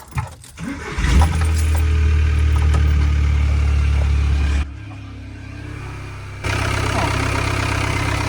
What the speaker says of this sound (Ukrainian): Зараз ще заведу двигун.